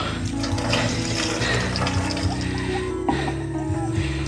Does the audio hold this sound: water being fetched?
yes